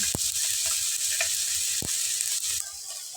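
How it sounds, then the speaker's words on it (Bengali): Phasa fish frying lightly in oil, a steady close sizzle with occasional spatter pops and a couple of clunks, easing slightly toward the end. "হালকা করে ফেসা মাছটা ভেজে নিতে হবে"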